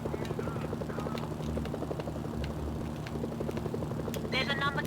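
A helicopter in the video game Mercenaries: Playground of Destruction, its rotor thumping in a steady rapid beat under a continuous engine drone, with game effects and a short burst of voice near the end.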